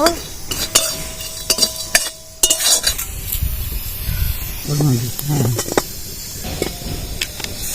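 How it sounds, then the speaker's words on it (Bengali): Cardamom, cinnamon, cloves and cumin frying in a wok for a Bengali jackfruit and chana dal dish, with a steady sizzle under clinking of a spoon against the pan and scattered stirring scrapes. "এই এলাচ দারচিনি লবঙ্গ আমি কড়ার মধ্যে দিয়ে দেবো কটা জিরে দিয়ে দিলাম মশলাটা ভালোভাবে ভেজে নেব"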